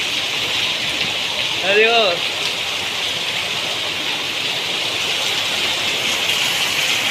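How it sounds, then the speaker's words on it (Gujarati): Rain falling steadily in a town street in Tharad, Gujarat, a dense even hiss throughout, with a man briefly calling out over it. "આ દેખો અમારા થરામાં વરસાદ ચાલુ થઈ ગયો છે"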